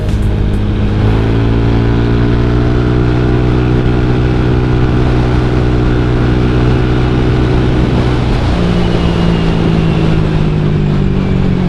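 A Honda Vario 150 scooter engine drones steadily while riding, loud and close with a constant hum, its pitch shifting smoothly as the throttle changes and dropping near the end, with no talk over it.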